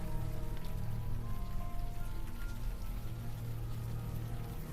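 Warm rain falls steadily in the game Unavowed, a dense, even hiss of drops hitting surfaces with a low rumbling bed underneath, continuous and without talk.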